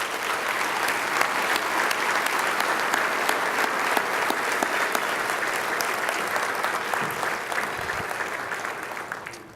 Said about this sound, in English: So let's give her an applause as she stands up.